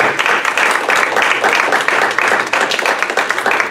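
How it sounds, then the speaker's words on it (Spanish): A church congregation applauds during a sermon, loud and close, many hands clapping in a dense, slightly pulsing burst that continues for nearly four seconds. "dale ese aplauso al Señor"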